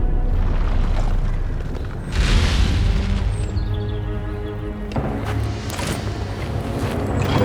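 A cannon fires in the Wild Hearts video game during a giant rock bear fight, a heavy booming blast with a rumbling tail, followed by another burst amid loud, dense game noise.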